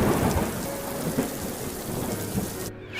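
Heavy rain pours steadily in a loud, dense wash while thunder rumbles low underneath during a village storm, the whole downpour cutting off abruptly near the end.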